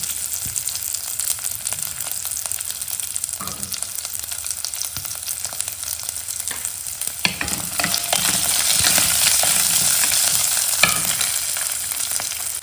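Garlic, onion and curry leaves fry in hot oil with a steady crackling sizzle, stirred now and then with a few sharp clinks, growing louder and more spitting toward the end.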